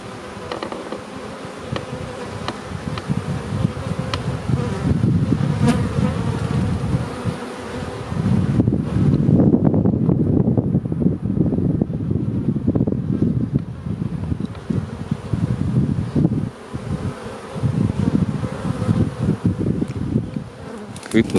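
Bees buzz around blooming blackthorn in spring, a continuous soft hum of a few insects drifting nearer and farther over light wind noise, with no speech.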